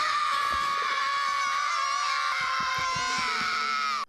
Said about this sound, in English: So the babies think that when they scream, they receive Reptar bars.